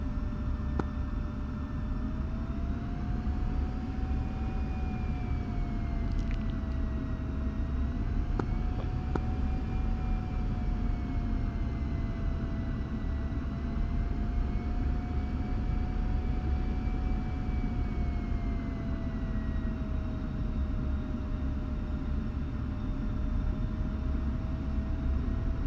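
An F-16C Viper jet in the DCS flight simulator taxis with a steady engine roar and whine, its pitch drifting slightly, continuous and close for about twenty-five seconds, with a couple of brief clicks.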